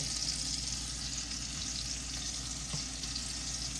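Ribeye steaks frying in a skillet beside onions, a constant moderate sizzle with a soft crackling texture, steady and close with an occasional light tap.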